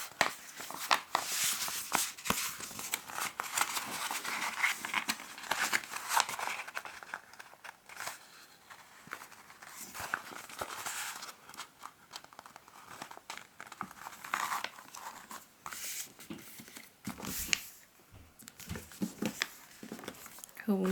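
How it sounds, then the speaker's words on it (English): Origami paper being folded in half while making a face mask, with crinkling and soft rustles of paper throughout, close by, mixed with a person talking. "we're going to fold this model in half"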